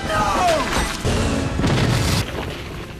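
Bomber planes passing overhead and buildings exploding in the war film Enemy at the Gates (2001), heard as loud, continuous booming and crashing rumble with rushing noise, layered and dense throughout.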